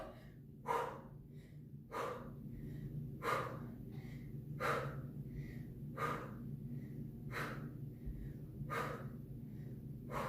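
Forceful exhaled breaths during a push/pull weight workout: about eight sharp puffs at a steady pace, roughly every second and a half, over a low continuous background hum.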